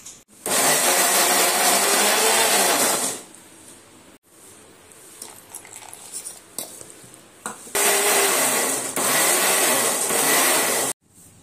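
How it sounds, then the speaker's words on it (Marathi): An electric mixer grinds soaked dal with a little water into dahi vada batter, roaring loud and steady in two long bursts with a break of rattling and knocking between them. "आता मी पेस्ट करून घेते, वड्यांसाठी तयार करते बेटर।"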